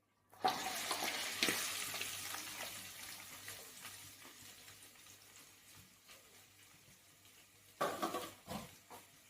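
Onions hitting hot oil in a pan for a wedding-style vada curry give a steady sizzle and frying hiss, strong at first, then settling, with stirring scrapes and a second burst later.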